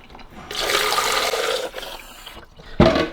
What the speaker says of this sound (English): I'm going to put fresh cold water up to where it says CALC